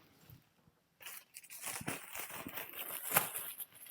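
A sturdy 60-liter plastic garbage bag is handled close up, giving crinkling, rustling bursts after a quiet start, with one sharp crackle near the end.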